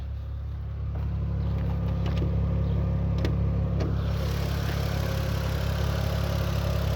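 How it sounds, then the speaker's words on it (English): A 2005 Chrysler Crossfire SRT6 idles with a smooth, steady low hum, quiet and constant throughout with no revving. "Engine's nice and quiet."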